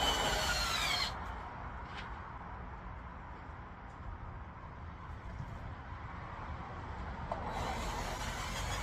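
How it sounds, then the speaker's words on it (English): A power drill bores through PVC cups, its broadband whir loud at the start, dropping to a lower steady grind through the middle, then rising again near the end, with no talk. "Every now and then the PVC cups will get a tendency to spin on you, and you won't get to drill all the way through."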